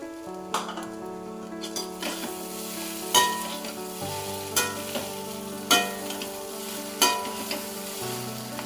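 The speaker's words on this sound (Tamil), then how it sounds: "இது நல்லா கிறிஸ்பியாக ஆனதுக்கப்புறம் நம்ம இப்போ 1 கப் தேங்காய் போட்டு நல்லா கலந்து விட்டுக்கலாம்." Seeralam frying with grated coconut in a pan, a steady close sizzle broken by a regular series of sharp scraping and knocking stirring strokes, with no talk.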